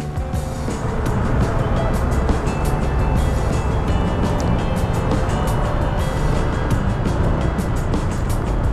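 A 2025 Honda ADV160 scooter rides through road traffic, with steady loud engine and wind roar plus surrounding vehicle noise holding constant throughout, no pauses.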